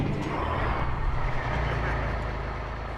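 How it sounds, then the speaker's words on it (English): Engine of a scuba diving charter boat on the Milwaukee River, a steady low rumble with broadband wash and hiss, loud and continuous, with no voices. "This is the sound of the Lender, Captain Jerry Geyer's boat"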